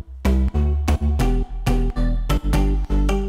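An electronic dance track with a deep bass line layered under pulsing synth chords, hitting in a steady chopped rhythm, loud and full with no voices.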